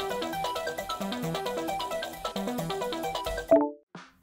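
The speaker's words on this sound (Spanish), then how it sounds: "Un sonido me distrae, es un mensaje." A phone's message notification rings out as a bright, rapid melodic ringtone pattern that plays steadily and ends with a final chime and a short tail.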